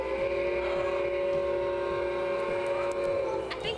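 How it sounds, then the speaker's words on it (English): A miniature railroad train horn sounds as one sustained, steady tone through the whole stretch, with a rhythmic clatter of wheels running beneath it. "I think you blew the train horns."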